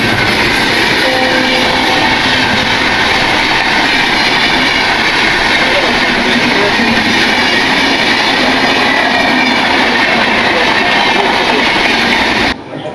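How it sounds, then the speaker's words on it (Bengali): The Nilachal Express passes close by a moving train, a loud continuous roar of wheels and carriages rushing past with rattling clatter and wind noise throughout. "তার আগে আমাদের ক্রস করবে নীলাচল এক্সপ্রেস।"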